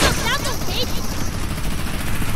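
Gunfire in the Fortnite Battle Royale video game, a dense, steady wash of shooting noise that continues through the whole moment, with voices talking over it.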